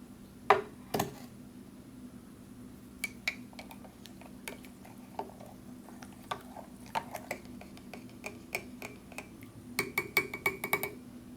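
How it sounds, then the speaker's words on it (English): A spoon stirs an MRE drink in a mug, giving scattered light clinks and ticks against the sides, some in quick clusters, quiet and close with no talking. "We'll stir this up"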